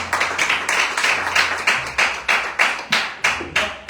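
Church congregation clapping in unison to acclaim the word, a steady rhythmic beat of about two claps per second, close and loud, with no talk.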